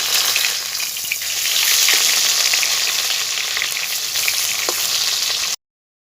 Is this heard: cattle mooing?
no